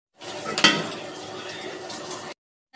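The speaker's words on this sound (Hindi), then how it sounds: "इन सब चीज़ों को अच्छे से मिक्स कर लेंगे और थोड़ी देर पकने के लिए रख देंगे।" Chicken with chili and garam masala is stirred in a cooking pot for a dhaba-style chicken and chana dal dish. A spoon clanks loudly once, then scrapes and mixes steadily for about two seconds close up, with no talk.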